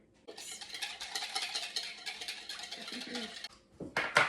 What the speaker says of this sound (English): To crack our egg, and then we're gonna whisk this together.